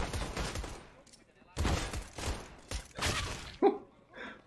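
Bursts of gunfire in the Counter-Strike video game on the Mirage map, with several sharp volleys separated by short gaps, loud and up front during a professional match broadcast.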